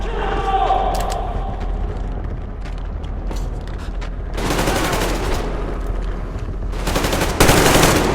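Sustained bursts of covering gunfire in the video game Metro Exodus, with heavy automatic volleys around the middle and again near the end, loud and close, over a rumbling battle backdrop with voices talking.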